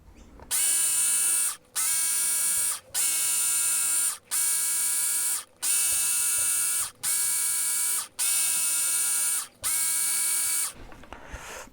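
A Work Sharp Ken Onion Edition electric knife sharpener grinds a knife blade in eight steady, loud passes, each a couple of seconds long and separated by brief gaps, with no voices present.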